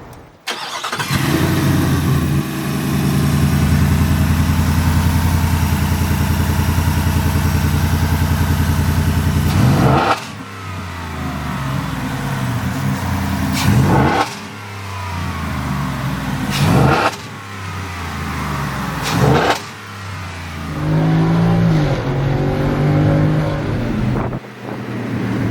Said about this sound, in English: So now we're going to be starting up the truck, see how it sounds, rev it up a little bit,